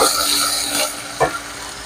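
Onions and curry leaves fry in hot oil in a pan, giving a steady, fairly loud sizzle throughout with a brief louder spatter near the middle.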